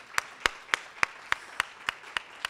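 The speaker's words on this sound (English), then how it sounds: "So let's give a round of applause." Scattered rhythmic clapping from a small group at a stock exchange ceremony marking a company's 20 years of listing, nine or so sharp, evenly spaced claps, moderately close.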